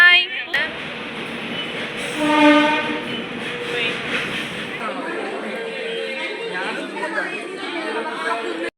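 A passenger train rumbles along with a horn blaring early on, while people chatter and talk over the steady rolling noise.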